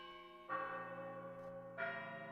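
A slightly out-of-tune church bell sample from a percussion library rings twice, each strike blooming into a long, shimmering sustain with dense overtones, alone and fairly close.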